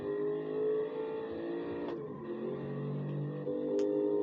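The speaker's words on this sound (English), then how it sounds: "who even cares when you've got an engine" An Aston Martin engine revs steadily in the racing game Gran Turismo Sport, a loud continuous drone that rises and falls in pitch, with brief gear-change dips around the middle and near the end.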